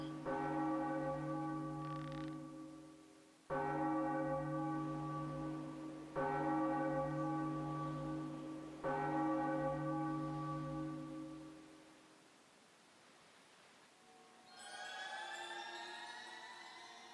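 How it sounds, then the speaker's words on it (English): Resonant bell tolls in Zelda: Wind Waker HD, four loud strikes each ringing out with a long decaying hum, followed by a quieter shimmering chime flourish near the end. "What an epic way to ring a bell."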